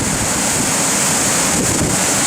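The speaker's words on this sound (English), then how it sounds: "little waterfall." Steady, loud broadband rush of the Caldon Snout waterfall, a tall cascade swollen after recent rain, heard close and continuous with no voices.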